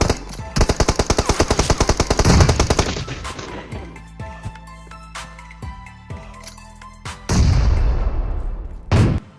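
Bursts of rapid automatic gunfire in a video game, loud and close, with scattered single shots and brief pauses between volleys, ending in another sustained burst.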